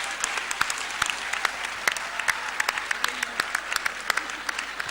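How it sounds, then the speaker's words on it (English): An audience applauds at a women and girls summit with steady, dense clapping at moderate volume, with sharper individual claps standing out throughout. "let's give her a round of applause again, but I think you've already done it"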